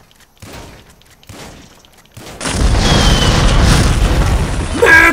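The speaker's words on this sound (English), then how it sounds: "Blow up, blow up, blow up, blow up, blow up." Explosion in the video game GTA V: a quiet start with faint clicks, then a sudden loud boom that rolls into a sustained roaring rumble with crackling debris, alone without talk.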